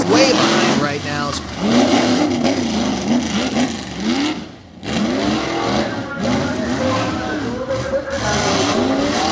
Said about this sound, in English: He got back on the throttle to kick the rear end of that truck around.